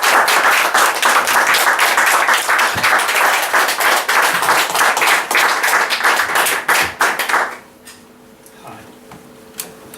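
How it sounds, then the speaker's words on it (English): An audience at a literary anniversary celebration breaks into loud, close applause that runs for about seven seconds and then stops abruptly, leaving a quiet room with faint shuffling. "A big round of applause for Mr."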